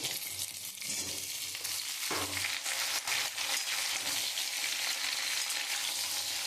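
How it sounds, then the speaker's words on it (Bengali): Sliced ridge gourd sizzling in hot oil in a pan with already-fried potatoes, giving a steady loud crackle with a brief stirring scrape partway through. "এবার আলুটা ভাজা হয়ে গেছে। এবার আমি ঝিঙেগুলো দিয়ে দেবো।"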